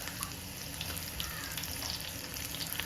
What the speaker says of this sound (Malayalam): നമുക്ക് ഇതിലേക്ക് ഒരല്പം കടുക് ഇട്ട് കൊടുക്കാം